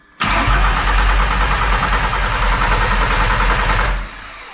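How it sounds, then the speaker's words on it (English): A VW T4 van engine, just overhauled, turns over and runs loudly and steadily close by for about four seconds, then cuts off abruptly. "I'm going to see if I can crank the engine"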